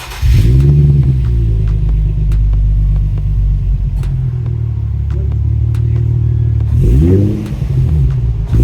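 A Nissan Z sports car engine breathing through a Tanabe exhaust, loud and close: a deep idle rumble with a sharp rev at the start and another rev near the end, plus a few small clicks between.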